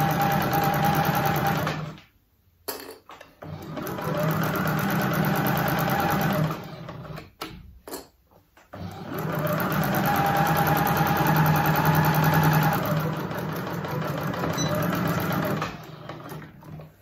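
Sewing machine running loud and close as it stitches thick fabric for a Japanese rice bag, two long steady bursts of motor whirr with a short pause and a few stop-start jolts between them.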